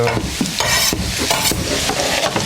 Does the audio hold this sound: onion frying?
yes